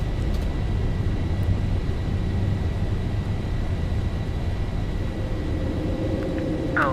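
Airliner roaring down the runway and climbing out in a Zibo 737 flight simulator on a Seattle departure, a steady loud broadband engine rumble throughout with a brief rising tone near the end, no voices.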